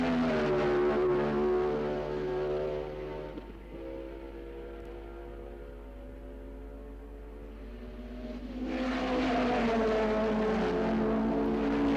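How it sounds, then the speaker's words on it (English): Ford-engined Brabham, Porsche and four-cylinder Lotus Formula One cars racing in a 1963 non-championship Grand Prix at Imola, their loud engines droning with shifting pitch, dropping quieter midway, then swelling again close by. "The little Ford-engined Brabham was mixing it with the Porsche and a four-cylinder Lotus, surprising everybody with its speed."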